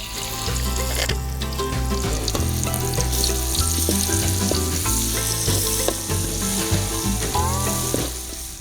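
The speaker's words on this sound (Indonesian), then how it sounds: "Setelah bumbu halus dan tercampur rata, pais terubuk bumbunya dimasak terlebih dahulu." Spice paste for pais terubuk fries in a pan with a steady, loud sizzle, and a utensil can be heard stirring and scraping intermittently throughout, with no voices.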